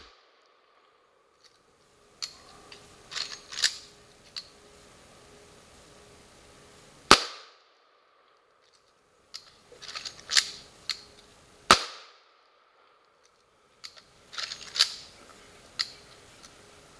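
A rifle firing reloaded 56-50 Spencer cartridges outdoors: two sharp, loud gunshots several seconds apart, with clicking and handling noises from working the action before and between the shots.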